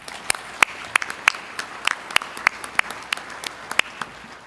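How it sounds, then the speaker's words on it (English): Sparse, distinct claps ring out in a steady rhythm from a small audience at the UMA 2017 bus industry awards, honouring manufacturers Temsa, Irizar, Motor Coach Industries and Prevost; the applause is moderately quiet and unaccompanied by speech. "So let's give them a round of applause."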